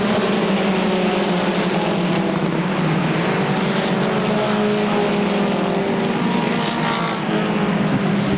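Street stock race cars roar together at Airborne Raceway, a dense, continuous engine drone with layered overlapping exhaust notes from a close pack, loud and steady throughout with no talk.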